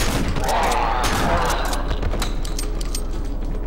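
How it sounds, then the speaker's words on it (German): Gunfire in the horror game Cry of Fear: a fast run of sharp shots cracks out close and loud over a constant low game drone. "Lass mich doch jetzt schießen!"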